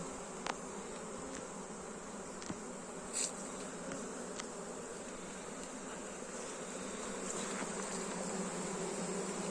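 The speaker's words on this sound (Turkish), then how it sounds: "Çalışmalı arılarımız çalışıyor yani kızlarımız" Honey bees hum continuously around a beehive at an outdoor apiary during honey harvesting, a dense, steady buzz close by with occasional brief ticks and no speech.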